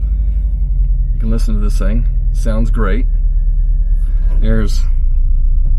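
A 1989 Volkswagen Vanagon GL Westfalia camper's engine while driving, a loud steady low rumble from inside the cab that runs throughout, with someone speaking a few words over it.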